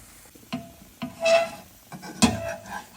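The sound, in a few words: uttapam cooking and being flipped in a pan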